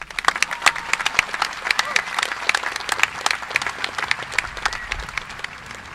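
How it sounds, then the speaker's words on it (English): An audience at a 2025 Boerne High School graduation ceremony applauds with a dense, sustained patter of many hands clapping that stays fairly loud throughout, then thins slightly toward the end. "Please give him a round of applause."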